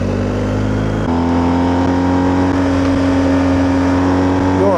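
A Honda Jazz approaching on a country road, heard through steady engine drone from a BMW R1250GS motorcycle, with a clear shift in engine pitch partway through and no talking.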